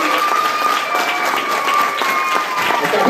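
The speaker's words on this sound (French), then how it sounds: "On applaudit!" Audience applause and cheering for a folk-rock band introduced on stage, a dense steady wash of clapping with crowd noise throughout, loud and close.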